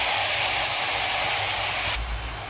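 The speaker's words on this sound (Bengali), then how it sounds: "তেলের মধ্যে তো এখন আমি সবজিগুলোকে অ্যাড করে দেবো।" Vegetables sizzle steadily in hot oil with spices for an Andhra-style fish curry, a loud continuous hiss that drops slightly near the end, with no talking.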